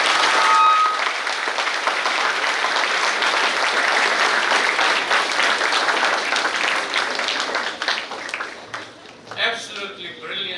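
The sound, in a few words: applause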